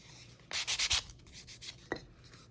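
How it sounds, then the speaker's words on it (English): Sandpaper worked over a wooden journal cover in a few quick, close rubbing strokes, a short burst of raspy scratches followed by lighter swipes in an otherwise quiet room. "after you sand it, the texture is gone"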